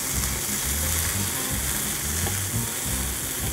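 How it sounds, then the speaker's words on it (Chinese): Chicken thigh pan-frying for a Hokkaido soup curry gives a dense, even sizzle heard up close, continuous and loud throughout with no talking. "咁而家咧，我哋煎一煎嗰個雞腿嘅嗰個表面啦"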